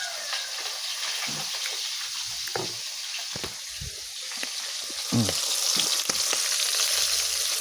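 Eggs frying in a pan for breakfast give a steady close sizzle and crackle, with occasional utensil scrapes and stirring clicks and a brief louder burst of sizzling near the end; no one talks.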